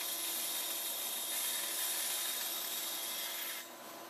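Trimming cut base material by hand to fit the contour of a GoPro mount gives a continuous scraping rasp that runs steadily, close up and fairly quiet, then eases off near the end.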